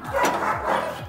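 A dog barks repeatedly at a home that keeps dogs and parrots, the sharp yips and whimpering barks coming in a quick uneven series, fairly loud and close, with no talk over them.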